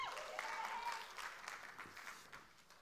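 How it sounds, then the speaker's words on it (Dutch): Brief, scattered applause from a church audience, a thin patter of clapping that tapers off within a few seconds, with a voice faintly audible underneath. "Het klappen gaat een beetje half, hè?"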